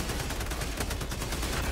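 Dense, rapid gunfire from the video game Helldivers 2 crackles without pause, with overlapping bursts of shots from several weapons at close range.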